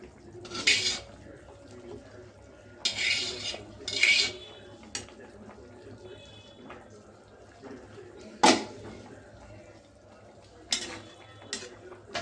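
Baila fish go into a cooking pan with cauliflower, heard as metal utensils clink and scrape against the pan in a few short bursts. A voice talks in between.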